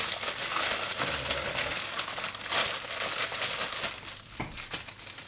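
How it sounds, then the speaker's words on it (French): Goldorak collectible packaging being unwrapped up close, with steady loud crinkling and tearing of plastic and paper that runs throughout, alone with no talk. "parce que là, donc, je déballe tout"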